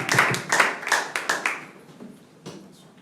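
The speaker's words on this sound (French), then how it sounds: "Applaudissez pour la parole de Dieu." A small church congregation clapping after a scripture reading during a sermon, a handful of distinct close claps in quick rhythm that thin out and fade, with one last isolated clap.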